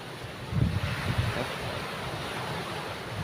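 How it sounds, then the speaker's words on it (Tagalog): Ocean waves wash and rumble in a steady roar with a stronger surge early on, mixed with wind buffeting the microphone. "Nagsasalubong ng mga alon, no?"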